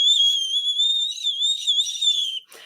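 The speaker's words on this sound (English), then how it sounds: "that sheep whistle that's on the top of the roof of your mouth" A loud, shrill whistle made with the tongue against the roof of the mouth, the sheep-herding kind, holds a steady high warbling tone for over two seconds alone before breaking off with a brief scrape.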